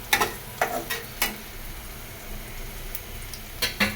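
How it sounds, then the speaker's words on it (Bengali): Onions browning with spices in a pan for a bitter gourd curry with rohu fish, giving a steady low sizzle broken by several sharp scraping stirs near the start and end. "দেন এক এক করে মশলা দিয়ে দিব।"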